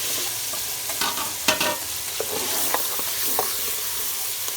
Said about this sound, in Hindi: थोड़ा सा कीमे को भून लेंगे, फिर बाद में प्याज डालेंगे।